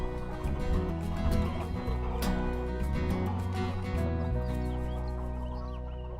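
Farm chickens clucking steadily alongside a busy, dense background of other sounds, continuous throughout with no talk.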